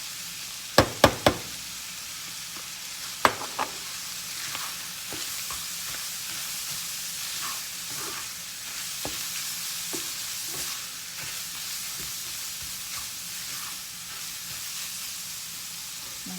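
Chili simmering in a pot sizzles steadily while a utensil knocks and scrapes through it as spices go in, with a cluster of sharp taps early and softer stirring strokes after.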